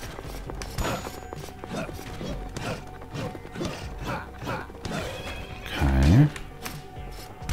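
A horse in the video game Rogue Legacy neighs loudly near the end, after rhythmic clip-clop hoofbeats and game sound effects, with someone talking over it.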